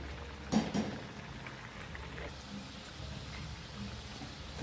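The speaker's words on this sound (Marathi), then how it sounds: "आता आपण पलटी करून घेऊया हे वडे एक साईडने छान तळले गेले खालची साईड पण छान तळून घ्यायची" Medu vada made from semolina and potato fry in hot oil, a steady, soft bubbling sizzle with a few louder splashes and crackles near the start, close and continuous.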